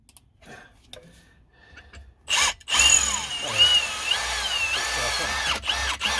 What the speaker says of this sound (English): Oh, this drill is a bit blunt.